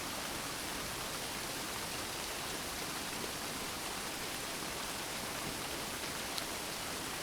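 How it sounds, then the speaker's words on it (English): Steady rain falls in a dense, even hiss with no pauses or voices, a constant close wash of drops continuing for the whole stretch. "So allow the sound of the sacred rain to calm and soothe"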